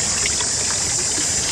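Water trickles and splashes steadily, with constant hissy flowing noise close by.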